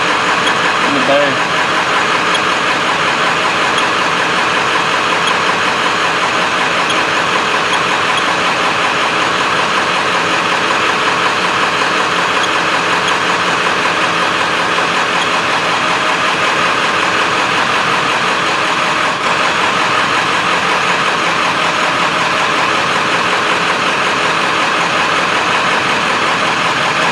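A 1995 Ford F-250 with a 7.3L diesel V8 idles roughly in a service bay, its steady, loud diesel clatter running unbroken throughout, with a voice talking over it.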